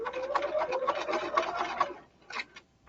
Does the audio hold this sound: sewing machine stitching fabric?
yes